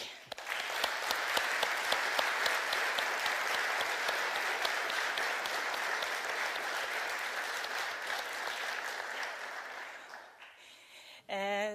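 An audience at the Rafto Prize 2017 ceremony gives a sustained round of applause, thick and even for about ten seconds before it cuts off and a voice briefly follows.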